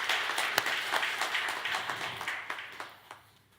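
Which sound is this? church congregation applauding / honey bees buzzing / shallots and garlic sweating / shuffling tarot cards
church congregation applauding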